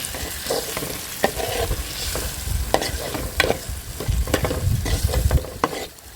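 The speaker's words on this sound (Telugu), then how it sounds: "కొద్దిగా గరం మసాలా, కొద్దిగా పెప్పర్ పౌడర్, రుచికి సరిపడా కల్లుప్పు, ఇవన్నీ బాగా మిక్స్ చేసుకోవాలి." A spoon stirs spiced paneer curry gravy with garam masala, pepper and salt in a pan, giving repeated scraping strokes against the metal over a soft, continuous sizzle at close range.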